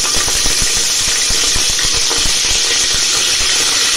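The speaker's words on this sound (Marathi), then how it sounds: "आपल्याला आपण फोडणी देऊन घेऊया" Bay leaves and curry leaves sizzling in hot oil for tempering a chicken rassa, a loud, dense, close hiss with rapid crackling pops running steadily throughout.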